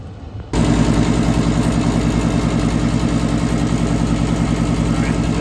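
A Daikin gas pack furnace starting up with direct spark ignition after a rollout switch reset, its blower and burner roaring in a loud, steady drone with a low hum that kicks in abruptly after a short quiet moment.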